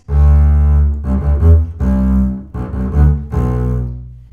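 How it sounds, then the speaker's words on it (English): Double bass playing bowed passages of sixteenth notes near the tip of the bow in an orchestral excerpt, five or so deep, resonant phrases with short gaps between them, close and solo without talking. "My third tip is to stay closer to the middle of the bow or the tip for the 16ths after C."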